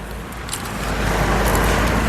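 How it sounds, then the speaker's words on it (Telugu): A 2016 Mahindra XUV500 W10 car driven out of a shipping container, its engine a steady low rumble that swells slightly as it moves, close and continuous with no talk. "కంటైనర్లో నుంచి బండి తీయడం కూడా టాస్క్ అనమాట"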